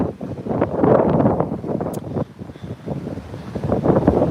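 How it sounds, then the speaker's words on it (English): Strong wind buffets the microphone in uneven gusts on a sailing boat near Seattle, with a rumbling, rushing wash of the boat moving over water. "it may sound windy"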